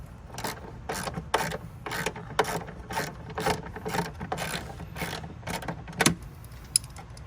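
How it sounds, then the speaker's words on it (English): A hand ratchet loosens the battery clamp on a 2015 Ford Focus, giving a steady run of quick, close metallic clicks in an even rhythm with a few short pauses. "we're gonna loosen up the battery clamp"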